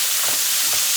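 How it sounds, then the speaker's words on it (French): Meat for lasagne being stirred in a hot pan: a steady sizzle with two soft scraping strokes of the spoon, close and fairly loud, no voices. "Je mets la viande. Et on touille."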